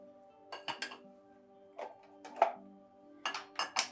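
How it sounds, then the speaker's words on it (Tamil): A few light metallic clinks and clunks of a cooking pot for tomato sambar being handled and set down on a stove, spaced irregularly against a faint steady hum. "அந்த பாத்திரத்தை எடுத்து ஸ்டவ்வில் வச்சுக்கலாம்"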